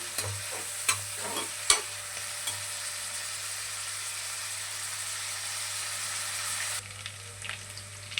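Onions sauté in a pan for Bangalore-style mutton kurma, several sharp stirring knocks at first, then a continuous soft sizzle that settles slightly near the end.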